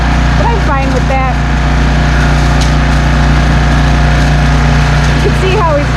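A leaf vacuum engine drones loudly and continuously nearby while sucking up garden leaves along the edge of a bed in a suburban yard, a steady buzzing roar with voices heard faintly beneath it.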